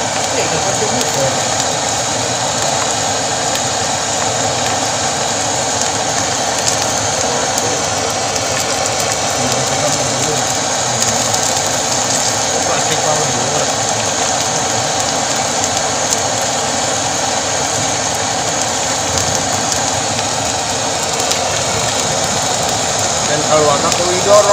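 A motor-driven plastic shredder machine runs continuously in Kuningan with a steady mechanical drone and whine. The level stays constant the whole time with no pauses.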